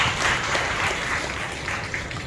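A church congregation claps together during a sermon, a dense burst of applause held steady at close range throughout, with no talking over it.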